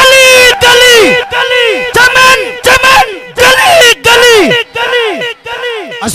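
A crowd at a religious gathering shouts takbir in loud, repeated, rhythmic chants, each call rising and then falling away, answered in unison by many voices, close and forceful.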